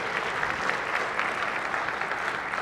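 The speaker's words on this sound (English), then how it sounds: "I ask that you hold your applause until everyone, but please remain standing." Sustained applause fills a Senate chamber as members honor guests, a steady dense patter of many hands clapping together, fairly loud and unbroken, with no talk over it.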